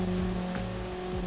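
An engine from a dual engine showcase runs near full throttle, giving a steady loud drone with strong tonal hum throughout the short moment.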